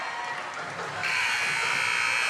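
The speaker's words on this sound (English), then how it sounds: "Final buzzer sounds." A loud electronic final buzzer blares in a high school boys' basketball gym, starting partway through over crowd noise and holding steady to the end.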